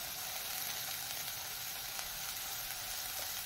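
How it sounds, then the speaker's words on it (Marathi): Onion, chilli and other ingredients for dry shrimp sauté in hot oil in a pan, a steady faint hissing sizzle that holds unbroken throughout with no talking. "सर्व साहित्य आपण तेलावर छान परतून घेऊया।"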